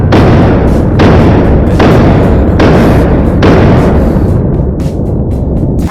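A pistol fitted with a red dot sight fires a run of about five loud, close shots at a steady pace, each with a short ringing decay.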